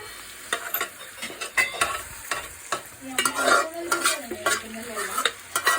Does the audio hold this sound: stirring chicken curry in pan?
yes